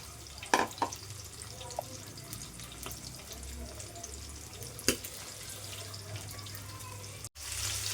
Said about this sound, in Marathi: तेलाचे म्हणजे चीट छिट उडत आहेत बेकार एकदम